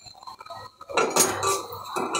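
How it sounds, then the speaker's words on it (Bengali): Black cumin seeds frying in a pan for a mashed kalojira relish, heard as close clinks and scrapes of a spoon against the pan, with a louder burst of activity in the second half. "এবার আমি একটু ভেজে নিব সুন্দর করে কালোজিরাটা"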